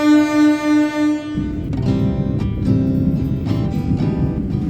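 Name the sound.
Serayu passenger train departing Kroya station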